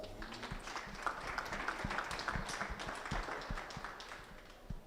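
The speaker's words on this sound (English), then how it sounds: "I think they deserve just a huge round of applause" Audience applause ringing out at a junior beef cattle show, the Alberta Provincial Show in Stettler, with dense, steady clapping heard from a distance at low volume.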